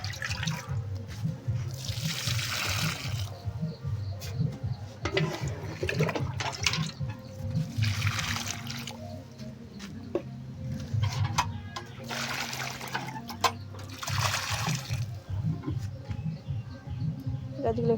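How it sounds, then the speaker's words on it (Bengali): Water poured onto newly planted flower plants, heard as repeated splashing, gushing bursts over a steady low hum, fairly close. "তো দেখো গাছগুলো একটু জল দিয়ে দিচ্ছি।"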